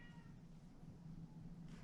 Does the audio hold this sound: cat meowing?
yes